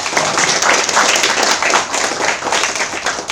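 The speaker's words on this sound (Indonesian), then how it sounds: "Berikan aplaus lagi" An audience claps at a school social-service visit to a foundation, dense and steady applause throughout, loud and close, with no voices over it.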